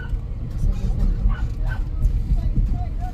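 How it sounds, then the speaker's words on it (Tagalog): Dogs bark and yip in short bursts on a rural farm outing, close by and mixed with people talking and some low background rumble. "Yung mga aso."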